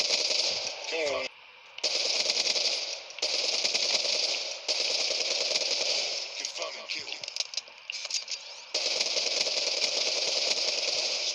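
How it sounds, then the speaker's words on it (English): An ICR rifle fires in a video game, with repeated bursts of shots broken by short pauses that sound close and loud. "most of them are just simple kills and extremely far away shots with the ICR"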